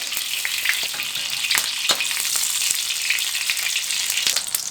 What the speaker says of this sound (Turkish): Evet tavalarım ısındı. Şöyle kuyruk yağını atıyorum içine.